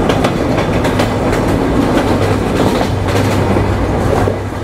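Inside the Rupsha Express intercity train near Khulna, Bangladesh, wheels drum loudly and steadily on the rails with a rhythmic clickety-clack over a constant rumble. No talking is heard.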